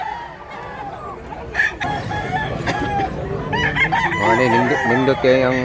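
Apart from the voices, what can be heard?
chickens and roosters crowing at a poultry market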